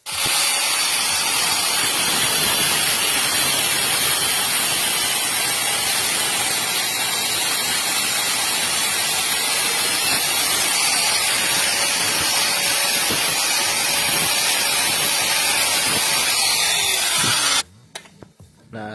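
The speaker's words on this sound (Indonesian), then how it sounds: "Ini untuk mur 12-nya kita potong dulu di bagian salah satu sisinya." A 12 mm nut having one side cut down, a loud steady grinding hiss running continuously for nearly twenty seconds before stopping abruptly.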